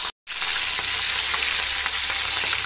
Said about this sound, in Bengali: এখন আমরা ভালো করে মাছগুলোকে ফ্রাই করে নেব।